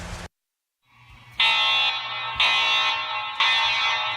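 A fire alarm in a luxury apartment building blares in long, loud, harsh buzzing tones, three repeated blasts after a short silence, with nothing else heard.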